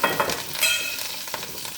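Hot tempering with curry leaves sizzles and crackles as it is poured into a pot of dried mango pieces and toor dal, a loud close frying hiss with bursts of popping and stirring, no voices.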